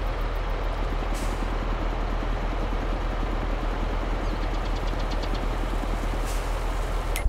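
Tractor engine idling in Farming Simulator 22, a steady low rhythmic chugging that runs unbroken and alone throughout, with a faint higher whine above it.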